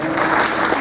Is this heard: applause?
yes